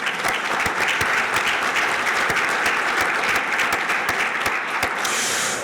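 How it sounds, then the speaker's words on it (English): An audience at a university athletics hall of fame ceremony claps loudly and steadily in a hall, a dense wash of applause that holds evenly throughout. "Give them a round of applause, please."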